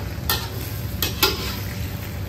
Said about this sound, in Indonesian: Okay, kita masak dahulu, daunkan pucuk manis ni.